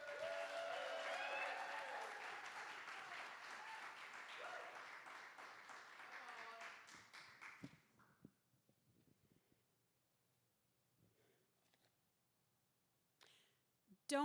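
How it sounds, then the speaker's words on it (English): Audience applause at a poetry slam preliminary round, greeting a poet taking the stage; a dense, loud burst of clapping for about seven seconds that fades out into near silence, with a brief stir at the end. "Can I get a thunderous round of applause for All Together,"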